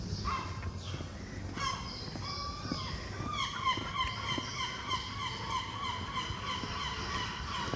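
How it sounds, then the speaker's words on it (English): Seagulls give repeated drawn-out, wailing calls that overlap one another. They sound moderately distant above a steady outdoor background hum. "We got some seagulls calling. Sound like babies."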